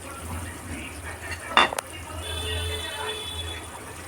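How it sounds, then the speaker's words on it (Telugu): Water is poured into a pot of fish curry (pulusu) with curry leaves, a soft steady gush in the second half after a brief clink, over a low background hum. "మన పులుసుకు తగ్గట్టు వాటర్ అయితే యాడ్ చేసుకుంటున్నాను."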